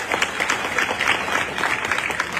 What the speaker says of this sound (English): Please clap for this lady here.